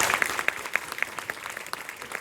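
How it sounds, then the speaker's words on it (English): Audience applauding after a school winter concert, a steady spread of individual claps from a modest crowd, moderately loud with distinct sharp hand claps standing out. "Can we get a round of applause, please?"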